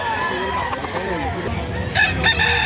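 Young roosters, stags about three months old, crow at a Saturday poultry market in Lipa, Batangas, with several overlapping calls close by amid busy crowd noise and faint talk.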